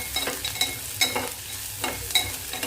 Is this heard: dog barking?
no